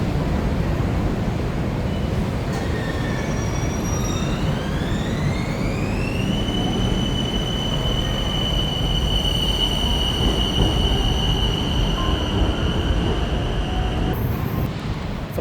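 A train runs past a station platform, its loud rumble steady throughout, with rising wheel squeal and whining tones climbing then holding high, all without speech.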